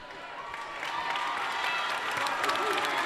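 A high school basketball gym crowd claps and cheers for a 6'6" senior on senior night, a steady wash of applause building slightly over a few seconds.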